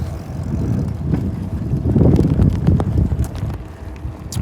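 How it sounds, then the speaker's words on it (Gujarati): A gusty headwind buffets the microphone on a cycle ride, giving rough, surging low rumbles that swell and ease throughout. "પવન છે, સામેથી જ પવન છે."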